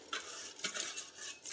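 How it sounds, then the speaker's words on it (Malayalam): Rice is tipped into a pot of rolling boiling water, a brief rushing, pattering pour with bubbling hiss, close and alone. "ഇങ്ങനെ അരി ഇടാം. നല്ല അടിപൊളി തിളപ്പാണ്."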